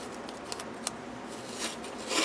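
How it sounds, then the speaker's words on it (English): Scissors cut a paper planner page with a few quiet, separate snips, close but faint, and no voices. "I'm thinking I'm going to need to cut it a little bit."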